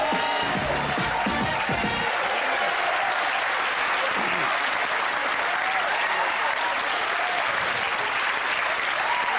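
Studio audience at a German talk show applauds as two guests are welcomed, dense steady clapping filling the whole stretch at close range with a few low thumps early on, no talk over it.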